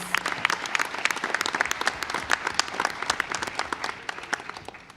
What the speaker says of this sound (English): So please join me in giving Mrs. Sheila Horner a round of applause